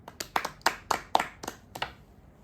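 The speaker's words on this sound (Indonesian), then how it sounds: "Tepuk tangan untuk kita semua." Sparse clapping from a small group: about eight sharp, distinct claps in an uneven rhythm over a couple of seconds, close and fairly quiet, with no talk over them.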